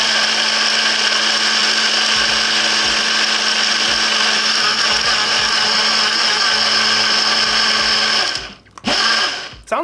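A Modern Comfort Blender X battery-powered blender crushes ice with a loud, steady, high motor whine and rattling churn for about eight seconds, then stops abruptly with a brief restart.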